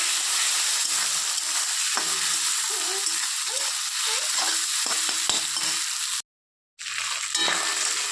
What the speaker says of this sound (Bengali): দিয়ে এটাকে ভেজে নেব